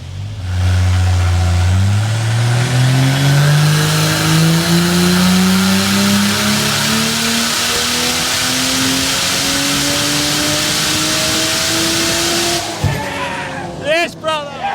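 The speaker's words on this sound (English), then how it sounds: "this thing is angry. Stage 5 cams, dump valve. It's going to make some noise." A Ford Barra engine with stage 5 cams and a dump valve revs hard on a dyno at a dyno day, a loud rising roar climbing steadily for about twelve seconds before cutting off with a sharp pop and brief chatter.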